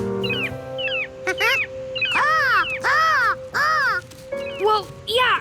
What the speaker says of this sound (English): Well, yeah, seagulls.